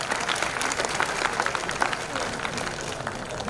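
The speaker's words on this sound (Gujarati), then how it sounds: "એકવાર જોરદાર તાળી તમારા માટે થઈ જાય મિત્રો" A large auditorium audience at a musical tribute concert breaks into sustained, dense applause that fills the space evenly from start to finish.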